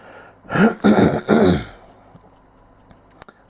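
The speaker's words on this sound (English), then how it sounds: "Sorry for my coughing." A smoker coughs and clears his throat close to the microphone in three quick, rough bursts, followed by quiet with a few faint clicks.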